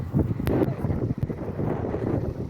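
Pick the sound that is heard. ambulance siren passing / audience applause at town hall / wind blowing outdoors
wind blowing outdoors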